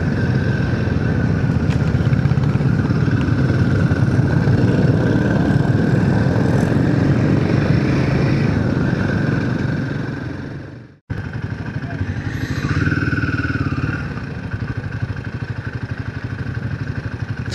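Around seventeen or eighteen motorcycles idle together before a Konkan group ride, making a continuous loud engine drone and rumble that briefly cuts out midway, then resumes with some clatter.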